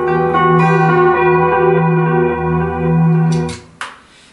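A sustained electric guitar chord rings out through a MOOER Ocean Machine pedal, washed in reverb and echoing delay, then fades as a couple of sharp clicks land near the end.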